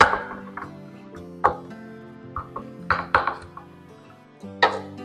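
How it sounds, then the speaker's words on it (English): Garlic cloves being crushed for a fire cider tonic: a series of sharp, close knocks and thuds at irregular intervals, with brief pauses between the strikes. "And then we have to crush the garlic."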